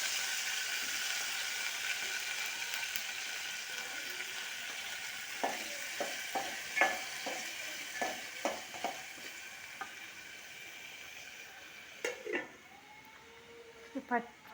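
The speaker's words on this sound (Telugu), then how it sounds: "ఇదే ఆయిల్లో కట్ చేసి ఉంచుకున్నాం బెండకాయలు వేసుకోవాలి." Cut okra sizzling in hot oil in a Telangana-style kitchen, a soft steady hiss with a run of clicking utensil taps against the pan partway through and a few more near the end.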